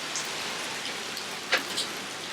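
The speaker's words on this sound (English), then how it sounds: "Still raining and still pretty windy." Steady, hissing rain pours during Hurricane Irma on a dark evening, a constant wash of drops with a couple of louder splatters and no talk.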